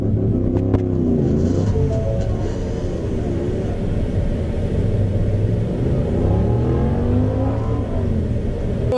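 Motorcycles fleeing a police stop, engines rumbling loud and close with rising revs and a continuous roar across the whole stretch.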